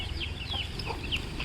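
Backyard chickens and chicks feeding, with soft clucks and small peeping calls over a low rumbling background, all fairly close.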